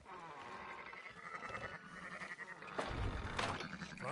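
Sheep bleat in a Red Dead Redemption 2 farm scene, several overlapping calls rising over steady game ambience, getting louder toward the end.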